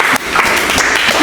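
A classroom of students applauding, dense and loud clapping that fills the short moment without any break.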